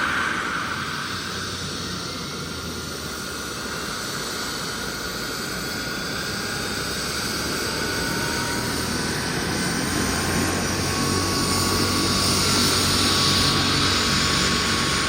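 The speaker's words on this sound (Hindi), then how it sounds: "इनका चॉपर जो है स्टार्ट हो चुका है और वो टेक ऑफ करने ही वाला है" A helicopter at a helipad in Doahg, Jogindernagar, Himachal, runs after starting up, ready to take off, with a loud, steady roaring turbine whine and rushing rotor noise that holds without a break and grows slightly near the end.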